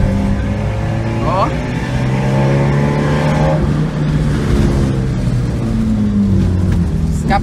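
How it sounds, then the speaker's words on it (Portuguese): A lowered Fiat Palio's broken exhaust rumbles loudly and deep, the engine revving up and down nearby with a gritty, throaty drone throughout. "Escapamento tá roncando igual um siri na lata"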